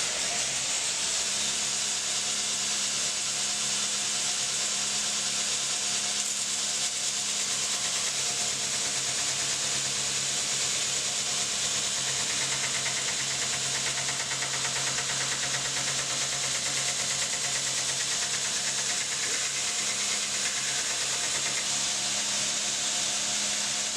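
A belt grinder runs steadily against a platen while a knife's plunge line is ground in, giving a continuous loud abrasive hiss with a low motor hum beneath, unbroken for the whole stretch with no talk.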